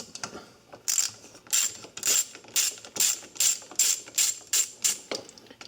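A 1/4 inch socket wrench ratchets while removing the centrifugal switch from a seized Century UST1102 pool pump motor, a close rhythmic series of about ten clicking bursts, each a quick buzzing ratchet stroke.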